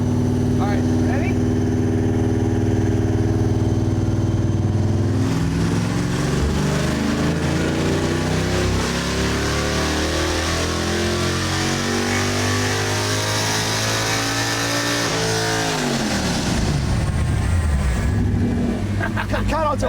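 A high-powered hot rod engine revs with its exhaust cutouts open, a loud, raw roar rising and falling through repeated throttle blips and sustained pulls before dropping back to a lumpy idle; voices are faintly present beneath the noise.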